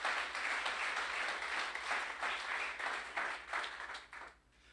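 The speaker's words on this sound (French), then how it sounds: "Acclame le Seigneur pour ça." Applause from a church congregation fills the space steadily, a dense wash of many hands clapping at moderate distance, easing off toward the end.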